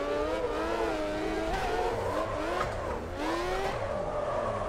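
Drift car at Tsukuba, taken into a turn in third and fourth gear: the engine revs hard and loud, pitch rising and falling as the throttle is worked, with a faint tire squeal through the corner.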